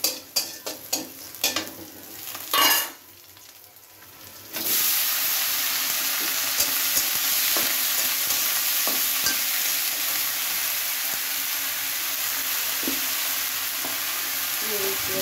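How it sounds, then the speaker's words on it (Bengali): Pumpkin being stir-fried in a pan opens with several clattering stirs and knocks, then breaks into a loud, continuous hiss of frying with occasional faint scrapes. "কুমড়া ভাজি করতেছি, শাপলা ভাজি করবো।"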